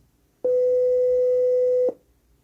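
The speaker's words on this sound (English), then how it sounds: "You should hear a tone." A Sinistar arcade sound board plays a steady test tone through a small Bose speaker on a workbench, a single pure pitch held for about a second and a half, clean and alone over faint background hiss.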